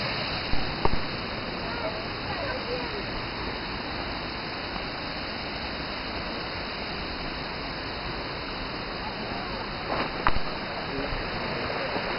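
Waterfalls swollen after days of rain at Vale das Borboletas give a steady, loud roar of rushing water that fills the whole clip, with a couple of brief knocks near the start and again toward the end.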